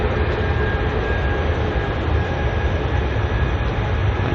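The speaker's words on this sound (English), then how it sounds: "as the British Airways one just departs in front of us." A British Airways Boeing 787 Dreamliner departs at Heathrow, its engines producing a steady, moderately loud broadband roar close by, continuous across the moment with no talk.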